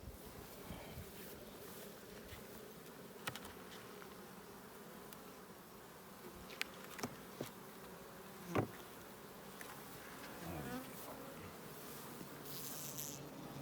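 Honeybees drone steadily around a wooden hive opened for inspection after overwintering, a continuous close buzz with a few louder passes of individual bees flying near.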